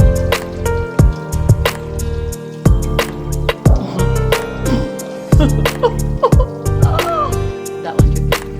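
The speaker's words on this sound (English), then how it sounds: "That one dripped." Water drips and trickles during DIY installation of kitchen sink plumbing pipes, with sharp wet plinks and splats scattered irregularly over a close, busy background of handling noise and faint movement.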